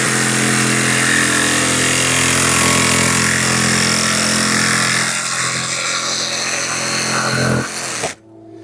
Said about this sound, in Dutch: het buisje gewoon doorzagen, zoals je ziet